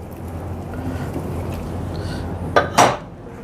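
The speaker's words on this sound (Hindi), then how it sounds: "और अब इसमें हम साथ ही ऐड कर देते हैं अपने चने, जो हमने ऑलरेडी पहले से बॉयल करके रखे हुए थे।" Boiled chickpeas go into a pot for achari chana pulao over a steady background hum, followed by two sharp metallic clanks of a spoon against the pot near the end.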